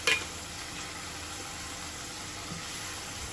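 Pieces of boal fish dropped into fried spice paste in a pan, an initial sharp sizzling burst that settles into a steady soft frying hiss, close and alone without talking.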